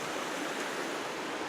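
Scotts Creek on the outskirts of downtown Sylva, North Carolina, rushing beneath a bridge: a steady, close, broadband wash of flowing water with no talk over it.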